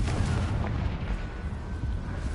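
The Confringo blasting spell explodes in the Hogwarts video game as a deep, rumbling blast with a sustained roar that fills the brief moment, close and loud, with no speech over it.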